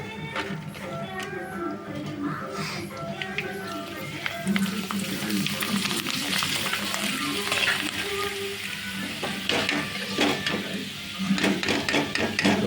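Intestines deep-fry in hot oil, crackling and sizzling in a steady close bubbling hiss broken by sharp pops and occasional utensil taps, with a voice talking over it.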